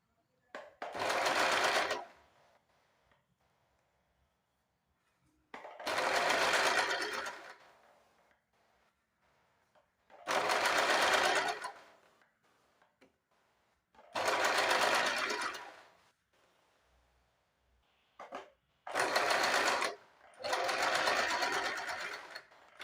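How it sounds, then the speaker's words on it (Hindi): A sewing machine stitches along the edge of a lined blouse neckline in five separate bursts of steady, fast whirring, each lasting one to three seconds, with quiet pauses between. "अब जो हम यहाँ से किनारे से एक और सिलाई लगा देंगे ताकि जो हमारा गला है वो एकदम फिनिशिंग के साथ बैठेगा।"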